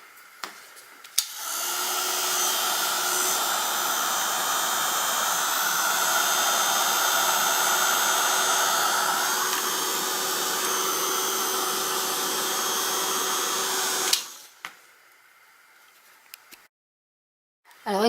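A heat tool or hair-dryer-style blower drying paint on a card, running steadily and loudly for about thirteen seconds as a continuous whooshing hiss, then switching off into near quiet with a few handling clicks.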